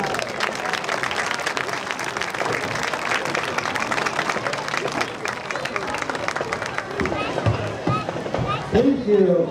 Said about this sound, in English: Please give a rousing applause for these outstanding three inductees and their families.